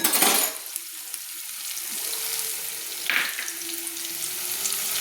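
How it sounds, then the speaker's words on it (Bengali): Chopped onion with ginger and garlic sizzles steadily in a pan for cabbage momo. Occasional scraping stir strokes rise briefly above the continuous frying hiss, close and clear, with no voices. "দিয়ে ভালো করে আমি নেড়ে নিচ্ছি। তো একটু লাল লাল করে ভেজে নেব যাতে চুঁয়ে না যায়"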